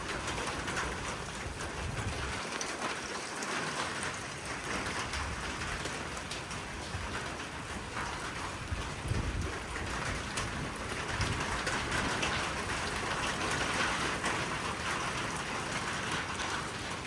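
Steady rain from a morning squall line with wind, an even, continuous patter of drops on surfaces close by, with a constant hiss throughout and no voices.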